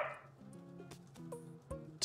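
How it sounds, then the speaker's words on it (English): A dog barks in the Animal Crossing New Horizons game, a few short yips heard over bright tonal game music and chimes, fairly quiet. "Did you hear that dog then?"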